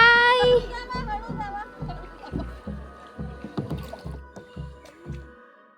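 A boat rowed back to shore at the end of a Konkan coast safari: a steady series of about a dozen close oar strokes splashing in even rhythm, with a brief voice at the very start.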